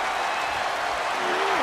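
A wrestling crowd cheers and applauds a move in the ring, a steady, dense roar of many people that holds at an even level throughout, with a brief falling whistle-like tone near the end.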